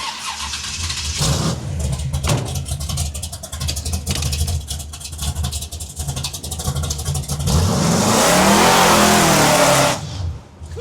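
A big-block V8 in a 1988 Oldsmobile Cutlass starts and revs, a loud, rough, close-up rumble that pulses throughout and swells into a sustained high rev near the end before cutting off.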